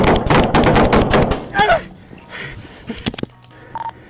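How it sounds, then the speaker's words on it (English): Rapid gunshots ring out loud and close during a police encounter caught on a Nashville officer's bodycam, a dense burst of sharp cracks followed by a few scattered shots and shouting. "shots fired! Shots fired!"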